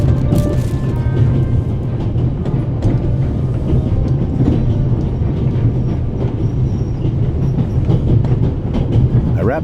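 Train riding along the rails in the video game The Raven: Remastered, with a continuous heavy low rumble and faint rhythmic clatter of wheels, steady and close for the whole stretch.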